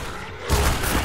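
Gunfire in the video game Half-Life 2 Episode 1: after a quieter half-second, a loud, dense burst of shots erupts and keeps rattling to the end.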